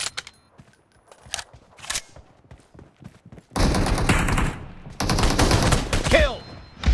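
SKS rifle fire in the mobile battle game PUBG Mobile, with sparse clicks and taps early on, then two long, dense, loud bursts of gunfire packed with sharp reports.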